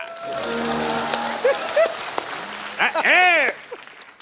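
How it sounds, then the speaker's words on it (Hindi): A television comedy show's studio audience claps as a steady wash of applause, partly covered by voices and bright whooshing, chirping sound effects. "तालियां रिदम में होनी चाहिए"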